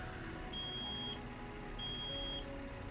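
A truck's reversing alarm in Euro Truck Simulator 2 sounds as two evenly spaced high electronic beeps over a low engine rumble.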